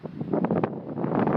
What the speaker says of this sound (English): Windy as, I'm not sure if you're going to hear this.